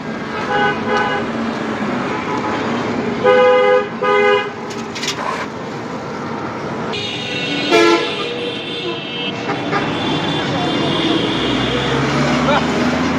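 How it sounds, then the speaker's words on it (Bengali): Traffic at a fuel pump station where cars, motorcycles, buses and trucks refuel: a continuous engine rumble with several short horn toots and one longer honk, fairly loud and close. "তো এটি হচ্ছে একটি তেল পাম্প। তেল নেয় গাড়ি, মোটর সাইকেল থেকে বাস, ট্রাক সবগুলোই এখানে তেল নিয়ে থাকে।"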